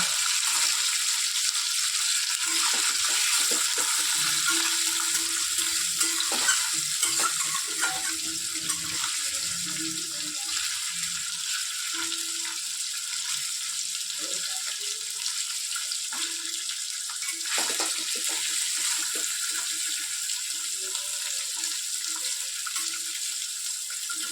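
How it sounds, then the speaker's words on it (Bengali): Small paneer cubes frying in a pan make a soft, continuous sizzle with a watery, tap-like hiss, punctuated by a few faint clinks and shuffles nearby. "পনিরগুলো ভেজে নেব, একটু হালকা লাল লাল করে ভেজে নেব।"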